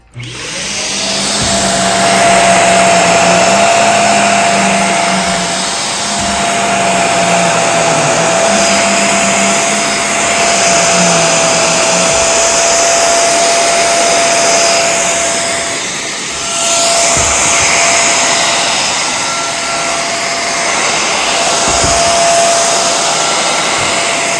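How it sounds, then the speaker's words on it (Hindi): A handheld vacuum cleaner running on a dirty mattress, a loud continuous motor whine with a steady tone that dips briefly as the nozzle moves, close and alone with no talking. "तो अब हम देखते हैं चलाकर वैक्यूम कि क्या ये साफ़ करता है।"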